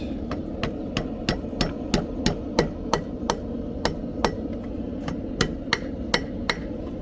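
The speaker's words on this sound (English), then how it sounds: "Use the corner of the anvil here." A hammer strikes steel on an anvil while a horseshoe heart is forged, about twenty sharp ringing blows in a fairly steady rhythm over a low background hum.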